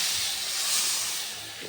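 Tamarind extract poured into a hot oiled pan sets off a loud, steady sizzling hiss that fills the whole moment and eases slightly toward the end.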